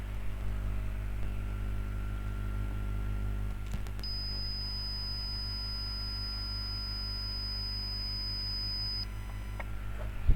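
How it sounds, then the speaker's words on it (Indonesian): A single long, high electronic beep from a smart home system alarm sounds steadily for about five seconds then cuts off, after a couple of brief clicks, over a low hum. "Di sini sudah terdengar alarm berbunyi dan alarm mati"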